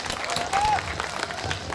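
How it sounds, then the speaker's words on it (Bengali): An audience at a school golden jubilee event breaks into applause, a crowd's dense clapping over a brief sustained tone from a microphone or instrument, with voices mixed in. "আমরা আরজাদুর রহমান মিঠু বিশ্বাসের জন্য জোরে একটি করতালি।"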